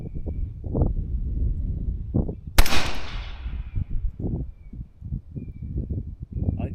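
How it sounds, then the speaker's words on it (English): A single sharp report from a suppressed 300 Blackout SBR rifle with handloaded rounds rings out mid-clip and decays quickly, while someone talks steadily before and after it. "All right, so that's 5 shots."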